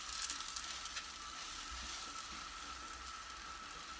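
Oil sizzles and crackles steadily in a hot pan as katmer flatbread fries, a soft continuous hiss of frying with no voices.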